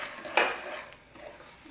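A single sharp clink of a spoon against a mixing bowl while flour is stirred into English muffin dough, followed by faint soft scraping and quiet kitchen stillness.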